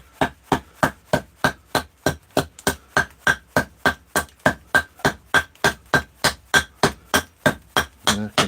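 An axe strikes a big willow bowl blank in a steady, rapid series of about thirty sharp, close chops at an even rhythm, each a crisp woody knock.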